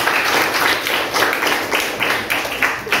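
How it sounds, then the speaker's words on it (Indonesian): A room of school students applauds the student council, dense steady clapping from many hands, loud and close, with no talk over it. "Tepuk tangan dulu untuk OSIS."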